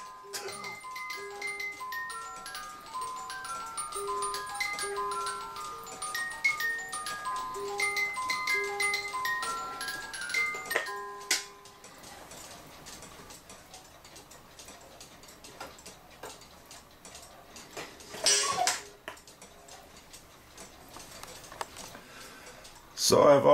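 A cuckoo clock undergoing repair ticks steadily through the clip, first beneath a tinkling music-box melody and then more plainly, with handling clatter and a loud knock at the end.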